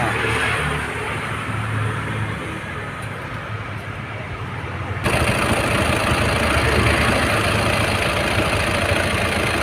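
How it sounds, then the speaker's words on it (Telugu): An Audi Q3 engine idles steadily throughout, a low continuous rumble that grows slightly louder and fuller about halfway through. "ఇంజిన్ ఆన్ చేయాలి సార్"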